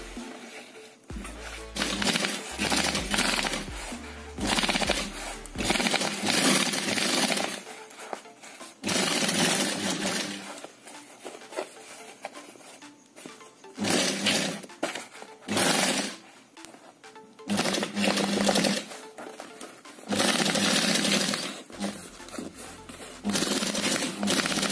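An industrial sewing machine stitches a fabric bag seam, its motor running in loud bursts of several seconds separated by short pauses, close up with no talking.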